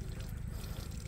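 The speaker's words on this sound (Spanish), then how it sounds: "Fíjate, ya está saliendo el agua sucia." Dirty water pours out steadily, a continuous low splashing flow that runs without a break from start to finish.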